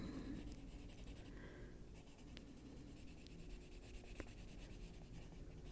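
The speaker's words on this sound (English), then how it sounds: "going in with a really softer pencil" A soft pencil scratches and strokes across paper, making quiet, close, intermittent graphite rasping with short pauses between strokes.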